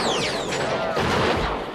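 Rapid gunfire and chaotic battle sounds burst loudly through a sniper duel scene in a war film, with crashing impacts and swooping effects layered throughout.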